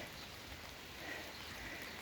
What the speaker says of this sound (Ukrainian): Дощ ось починається.